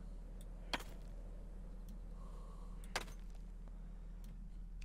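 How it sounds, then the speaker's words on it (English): A rock is struck in the survival game The Forest, giving two sharp, isolated impact thuds about two seconds apart over a quiet, low background hum. "Can I break this rock?"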